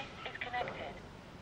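A helmet-mounted bone conduction Bluetooth headset powers on and connects to a phone, giving a brief, faint series of electronic beep tones over quiet background.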